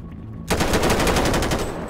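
Rapid automatic gunfire from GTA 5 with the LSPDFR police mod on a military SWAT patrol, a quiet half-second then a loud, sustained burst of evenly spaced shots up close, with no talking.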